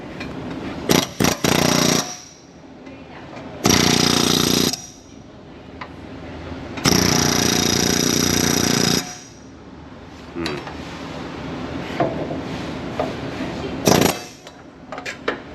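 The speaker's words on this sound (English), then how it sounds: "I'm gonna go in there with a chisel and give this thing the business." A chisel works on torsion bar parts under a 4x4 truck, giving several loud, harsh bursts of rapid hammering that last one to two seconds each, separated by quieter stretches with scattered clanks.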